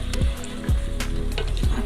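Potatoes coated with turmeric and spices fry in a pan, a steady soft sizzle with a few scraping stirs of a spoon, close and continuous.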